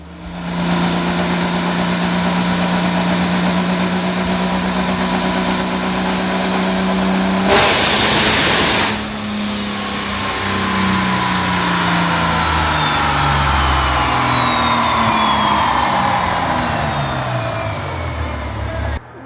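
A high-horsepower boosted engine revs hard on a dyno, holding a loud sustained tone, bursting into a roar mid-run, then winding down in falling pitch as it coasts off.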